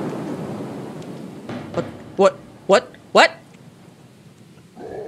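Stormy weather in the horror game Unforgiving: A Northern Hymn, with three sharp, loud thunder cracks in quick succession over a steady rain-like hiss, followed by a brief voice.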